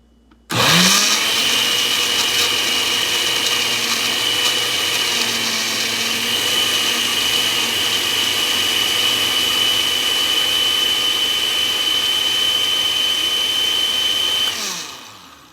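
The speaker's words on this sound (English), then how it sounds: "I'm gonna go ahead and blend the spinach and the cucumber with no liquid." A blender runs dry on spinach and cucumber with no liquid, kicking on abruptly into a loud, steady whirring roar that holds for about fourteen seconds before spinning down.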